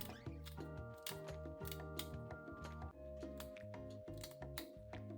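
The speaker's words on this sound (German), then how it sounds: "Das Nori-Blatt könnt ihr am besten mit einer Schere klein schneiden." Nori seaweed sheet being snipped into small pieces with scissors while garnishing kimchi, a quick series of crisp cutting clicks in an irregular rhythm, close up, over a faint musical background.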